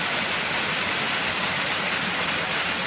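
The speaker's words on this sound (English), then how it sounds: "that's quite a nice little waterfall coming through underneath the road there" A small waterfall pours beneath a road bridge, making a loud, dense, unbroken rush of water heard close up with no pauses.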